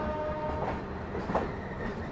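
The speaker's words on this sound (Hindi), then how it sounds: "डीजल लोकोमोटिव के साथ, ज़बरदस्त खूबसूरत क्रॉसिंग आउटर में।" An Intercity Express train hauled by a diesel locomotive rolls past an outer crossing in winter, a steady rumble of wheels and carriages with faint rail clatter throughout, no voices.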